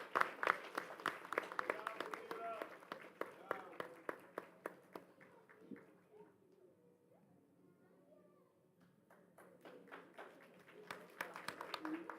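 Audience applause for the McKinley Elementary cheer squad at a school board meeting, a spread of clapping that swells, thins into scattered claps and murmuring voices midway, then picks up again.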